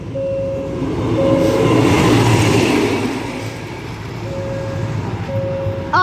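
Thai passenger train 726 pulls out of Kanchanaburi station bound for Tha Muang, its rolling rumble swelling and fading across the whole stretch, with a steady horn-like tone sounding near the start and end and a sharp squeal at the close.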